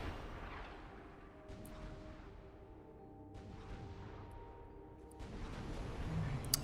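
T1 plasma cannon fire in the real-time strategy game Supreme Commander: Forged Alliance, with repeated low booming shots and rumbling layered over a steady tonal game soundtrack, growing louder toward the end.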